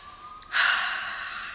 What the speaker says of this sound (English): I want you all to take a quick deep breath